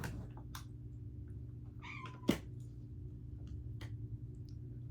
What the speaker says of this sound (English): My cat scared the shit out of herself.